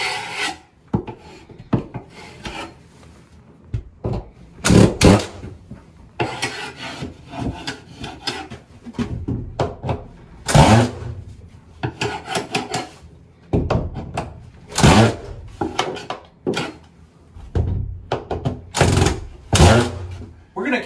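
A drywall knife scraped across screw heads set in drywall during a mobile home renovation, giving repeated rasping strokes with sharp scraping bursts and ticks, close and fairly loud, with intermittent speech between passes.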